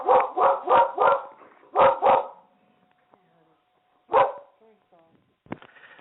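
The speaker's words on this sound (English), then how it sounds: "that was my dog that got upset because something exploded in the neighborhood" A dog barks in a quick cluster of five or six sharp, close barks, then a pause and one more bark, ending with a short yip, upset by an explosion in the neighborhood.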